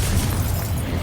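Confringo spell explosion in Hogwarts Legacy, a loud, sustained booming blast with deep rumbling low end filling the whole moment, dense and continuous rather than a single sharp crack.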